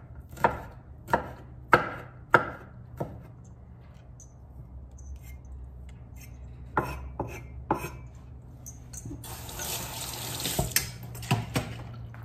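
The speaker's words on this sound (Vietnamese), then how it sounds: "Đây mình bỏ một xắt miếng tỏi mình xào." A knife slices garlic on a cutting board in a home kitchen while beef and mushroom stir-fry is being prepared. Crisp, spaced chopping taps come first, then a few more cuts, and a tap runs with water near the end.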